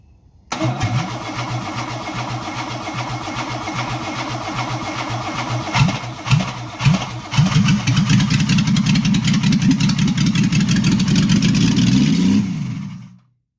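A 1962 Mercedes 220SE Coupe engine cranks, catches and settles into a loud, steady idle close by, with a few throttle blips partway through before it shuts off.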